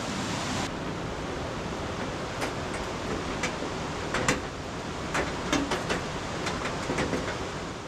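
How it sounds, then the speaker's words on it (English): Roaring Brook at Baxter State Park rushing in a steady, loud broadband roar of fast-flowing water, continuous throughout with a few faint higher clicks and splashes on top and no talking. "Oh, that's a roaring brook, all right."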